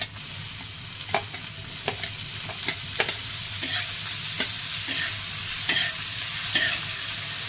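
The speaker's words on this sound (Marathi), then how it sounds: "टोमॅटो सुद्धा आपल्याला छान मऊ होईपर्यंत परतून घ्यायचं आहे" Chopped tomatoes added to golden-fried onion in hot oil for a dried shrimp (karandi) fry, stirred in the pan: a continuous close sizzle broken by sharp scraping and clinking of the spatula, with no talking.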